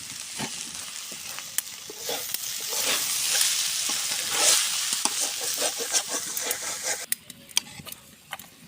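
Flat beans and cauliflower bhaji frying in a pan over a clay stove: a steady, close sizzle with scattered sharp clicks of stirring throughout, no voices.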